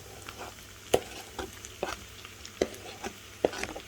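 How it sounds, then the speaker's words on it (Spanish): Salt cod flakes and onion stirred in a frying pan for bacalhau à Brás, quiet soft sizzling under a spatula, punctuated by four sharp clinks against the pan at roughly regular intervals, with no talking. "Entonces le damos unas vueltas con el resto de los ingredientes"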